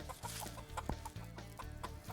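Midas mix and Golden Comet chickens cluck and murmur steadily at a moderate distance, soft repeated calls overlapping in a relaxed backyard flock.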